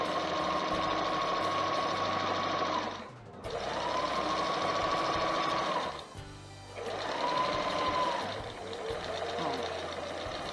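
A sewing machine runs a seam through fabric in three sustained bursts, each cut off by a brief pause, heard close and steady with no talking.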